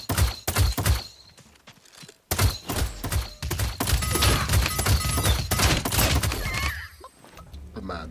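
Burst rifle gunfire from the Realm Royale Reforged video game, with quick clusters of sharp shots followed by a dense, sustained stretch of rapid firing and in-game effects.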